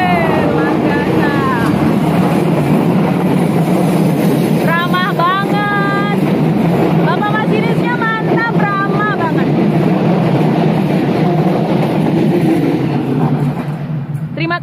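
The Serayu passenger train rumbles steadily across a railway bridge, a loud continuous roar with repeated bright screeching and whistling tones from the wheels, while people talk excitedly nearby throughout.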